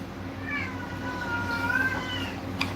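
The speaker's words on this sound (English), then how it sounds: "my cat" A pet cat lets out a long, drawn-out meow that rises and falls over a couple of seconds, close by and fairly loud, over a low steady room hum.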